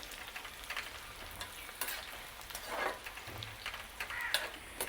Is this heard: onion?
yes